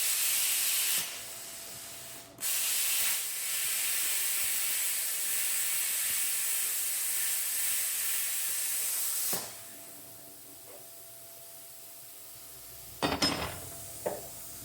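An Arc Captain 55MP plasma cutter cuts metal with a steady, loud hissing rush lasting several seconds, then stops, followed by a few faint clanks of metal being handled.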